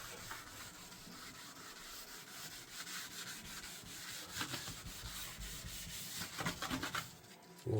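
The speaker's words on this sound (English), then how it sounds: "I'm pushing that scrubber in these grooves because we don't want stuff sitting here." A scrubber is pushed back and forth along the grooves of a kitchen counter while it is being cleaned, making a continuous close-up rubbing and scraping sound with a few sharper strokes near the end.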